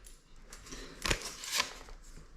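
A drywall repair patch being unwrapped gives brief crinkly rustles and a couple of sharper tearing snaps of packaging, close by with no talk.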